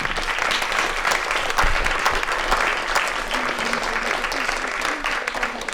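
A crowd claps for the event's organizing team at a cycling-themed gathering, producing dense, lively applause with some cheering and faint voices mixed in throughout.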